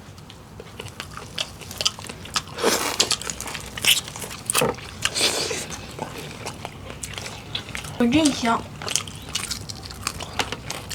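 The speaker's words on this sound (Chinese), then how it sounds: "嘎嘣脆，吃起来，羊排做成这味儿也是绝了" Crunchy biting and chewing of deep-fried cumin lamb ribs, repeated crisp bites close to the mic, with a brief spoken exclamation among them.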